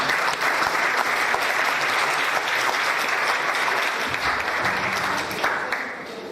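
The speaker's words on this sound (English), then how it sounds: "Let's receive Mr. Watson with a warm round of applause" A conference audience gives a warm round of applause to welcome a speaker, steady dense clapping that stays loud and continuous before easing off near the end.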